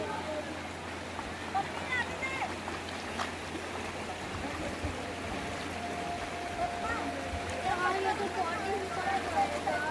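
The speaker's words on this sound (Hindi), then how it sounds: "अभी मैं आपको पानी की ओरिजिनल आवाज़ सुनाती हूँ।" Water rushes steadily in a river near Mata Vindhyavasini temple in Haridwar, a continuous broadband wash with faint splashes, close and fairly loud, while people talk nearby.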